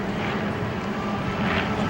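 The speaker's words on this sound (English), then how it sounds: "Larry Kelly's flying for us this afternoon." A B-25 Mitchell bomber named Panchito flies at an airshow, its piston engines producing a steady, rumbling drone with a broad roar, sustained and fairly near, with no speech.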